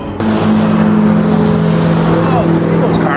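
Cars drive past on a road in Yarnell, Arizona, a loud close engine rush and tire roar that swells and holds, while a person talks over it.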